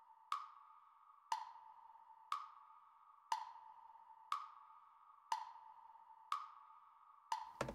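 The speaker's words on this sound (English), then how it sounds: "It's just like two different gawk blocks, two different wood blocks. Click, clock. Lots of reverb" Sharp clicks from two different wood blocks tick at an even pace, roughly one per second, like a ticking clock, each followed by a ringing reverberant tail in otherwise quiet space.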